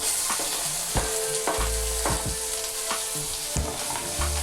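Chopped onions and green chillies sizzle loudly in hot oil while a utensil stirs and scrapes the pan several times.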